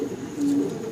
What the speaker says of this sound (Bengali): খুব সুন্দর দুইটা ইয়াং কবুতর